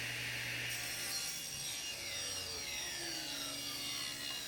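Saw ripping backyard-harvested cherry wood into thin strips for framing, a steady continuous cutting whine with a low hum, close and alone with no talk.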